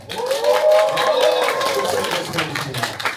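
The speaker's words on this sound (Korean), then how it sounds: "박수 한번 주세요." Audience applause and cheering at a Korean stand-up comedy versus hip-hop show, a dense wash of clapping with crowd voices mixed in, fairly loud and steady, easing slightly toward the end.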